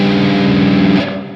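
A distorted tritone chord rings out on an electric guitar, one loud, harsh and sustained strum lasting about a second before it is cut off abruptly.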